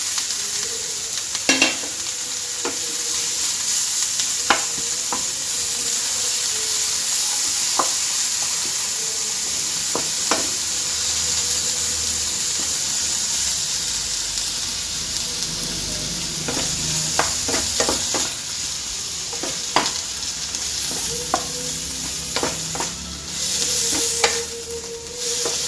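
Cauliflower curry with tomato sizzling steadily in a frying pan, with intermittent knocks and scrapes of a spoon stirring the vegetables throughout.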